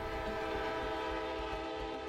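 A sustained train horn blares loud and steady with a rich chord of tones, held without break for about two seconds, no voices.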